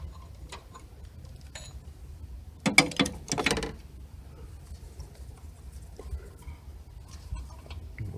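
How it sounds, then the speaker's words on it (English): A 1/2-inch ratchet on a long extension clicks in a short quick burst while loosening an oxygen sensor on a 2016 Chevy Cruze 1.4L turbo, close and fairly quiet against a hushed garage background. "I'm using a 1/2-inch ratchet with about a 10-inch extension"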